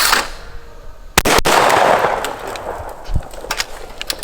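Two sharp shotgun blasts sound close together outdoors at thrown targets during a bird dog hunt for pheasant, chukar and quail, then a fainter pop follows and the scene is otherwise quiet.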